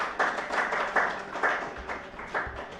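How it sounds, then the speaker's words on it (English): A small management team claps for itself at an event honoring a founding professor, giving a few seconds of scattered, uneven handclaps that rise and fall in irregular bursts with no talk. "let's take a moment as the management team to clap for ourselves."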